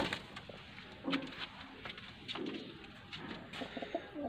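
Pigeons coo softly in low, repeated calls, with light rustling and faint background noise around them.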